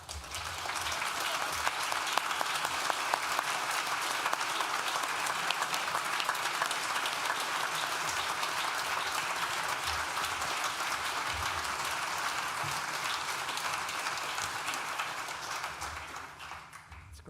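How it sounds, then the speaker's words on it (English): Sustained applause from a graduation ceremony audience at an art and design school, dense and steady throughout with the crowd clapping continuously, fading slightly at the end. "Can I invite you all now to rise and to recognize their contribution with a round of applause."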